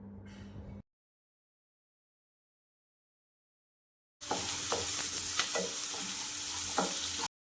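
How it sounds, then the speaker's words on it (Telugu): Egg semiya ingredients fry in a pan, seasoned with a little turmeric and salt, giving a steady close sizzle with stirring scrapes for about three seconds after a brief opening noise and a long silence. "ఇవన్నీ వేసుకొని కొంచెం ఫ్రై చేసుకోవాలి."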